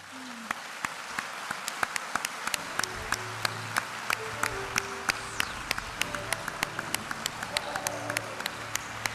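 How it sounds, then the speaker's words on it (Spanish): A standing audience claps at an education awards ceremony, the applause steady and moderately loud through the whole stretch with distinct sharp claps near the microphone, while voices murmur underneath. "les pedimos ponerse de pie para recibir el aplauso merecido por este"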